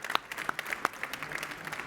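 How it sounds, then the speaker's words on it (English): Applause for a speaker at a conference on intelligent transport systems, a sparse, fairly faint round of claps from a small audience, individual hand claps standing out against the quieter patter. "let's give a round of applause for our speaker."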